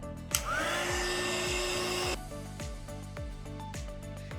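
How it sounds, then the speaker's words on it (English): A hair dryer blows steadily on pink paint on a wood plaque, a loud continuous whooshing hum that dips slightly in pitch partway through and keeps running to the end. "Just dry that little bit of pink."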